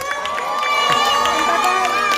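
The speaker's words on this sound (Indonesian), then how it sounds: "tepuk tangan dong untuk Om Pepeng dong" A crowd at a film press conference cheers and claps, with lively shouting voices and a sustained tonal hum running through the brief burst.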